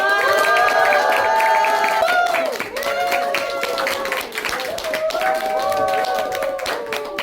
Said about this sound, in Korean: 소장님 모실 때 큰 박수와 환성으로 맞이해 주시면 감사하겠습니다